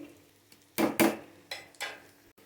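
Beef tripe and onions fry in a pan, with several loud metallic scrapes and clatters of a spatula against the pan over a faint sizzle, the strokes arriving about half a second apart.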